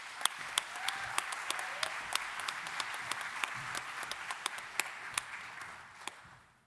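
An audience applauds to welcome a speaker at a neurosurgery lecture, a steady wash of many hands clapping with a few sharp nearby claps standing out, fading at the end.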